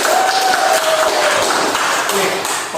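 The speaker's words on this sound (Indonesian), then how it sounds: "tepuk tangan dulu buat kita semuanya" Classroom applause for the whole class of eleventh-grade science students after a group presentation, a steady dense clatter of many hands clapping throughout, fairly loud and close, with a faint tone running underneath.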